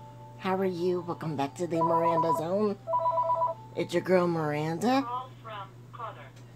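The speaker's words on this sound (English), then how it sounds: "I am sorry the phone's ringing." A telephone rings in two short tonal bursts indoors, partly under someone talking to camera.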